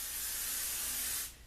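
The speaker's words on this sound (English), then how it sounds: "Give it a nice long spray for your bun." Hairspray hisses onto a hair bun in one long, steady, close spray lasting over a second, then cuts off sharply into near silence.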